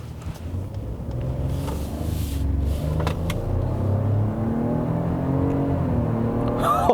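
A 2018 Ford F-150 Lariat with the 2.7 EcoBoost engine accelerates, its engine note building steadily with rising harmonic tones, heard from inside the truck over a continuous low road rumble.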